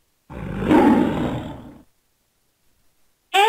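A lion gives one loud, deep, rumbling roar that swells and then fades over about a second and a half, followed by silence and a brief voice at the end.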